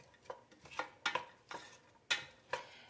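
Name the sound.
onions being sauteed in a pot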